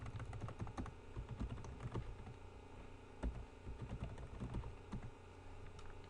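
Fingers tap out an email address and password on a computer keyboard in quick, irregular bursts of close, soft key clicks, with no one talking.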